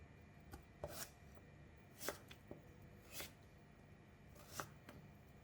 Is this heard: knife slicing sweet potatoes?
yes